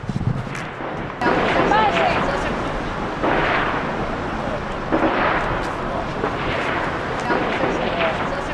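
Gunfire in the Rocinha favela in Rio de Janeiro sounds as a few distant reports under continuous talking. A dense ambient roar fills the background.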